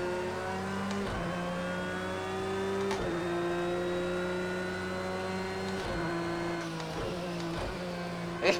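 A Porsche engine in the racing game Project Cars 2 revs and drones steadily, pitch rising through each gear and dropping at shifts several times, loud and close with no talking.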